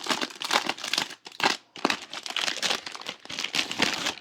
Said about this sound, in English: So here is just a plastic bag with a bunch of stuff in it.